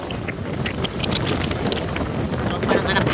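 Strong wind roars across the microphone on a rainy afternoon in the rice fields, a loud, steady rumble with slight swells in intensity throughout.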